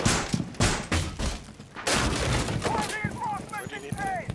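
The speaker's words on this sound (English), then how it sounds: "they're shooting at me" Gunfire in Rainbow Six Siege, a cluster of sharp loud shots in quick succession followed by fainter crackling, with voices talking in the background.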